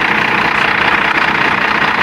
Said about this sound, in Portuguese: Olha o barulho da máquina. Olha o ronco, olha o ronco.